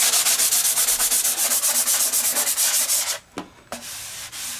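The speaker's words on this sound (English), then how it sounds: "a quick once over with that sanding block" Steady rhythmic rasping of a sanding block rubbed back and forth over the painted wing of a Focke-Wulf Fw 190 model aircraft, close and loud in quick even strokes, pausing briefly near the end before resuming.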